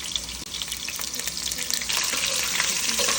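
Chana dal, mustard seeds and onions frying in a pan, giving a steady, close sizzle that thickens into a louder, hissing crackle partway through.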